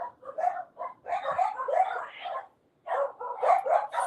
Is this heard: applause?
no